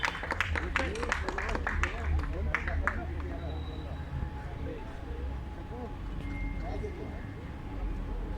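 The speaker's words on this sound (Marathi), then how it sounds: "सर्वांना विनंती करतो की त्यांनी जोरदार टाळ्यांचा स्वागत करायचे आहे" Audience applause greets a cabinet minister at the inauguration of an EV charging facility, with a burst of clapping in the first few seconds that fades under ongoing speech and crowd murmur.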